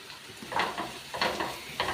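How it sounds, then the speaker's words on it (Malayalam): Roasting jackfruit seeds are stirred in a hot pan, giving three close, gritty scraping sweeps at a steady rhythm over a continuous sizzle. "ഇനി നമുക്കത് ഇളക്കി കൊടുക്കാം"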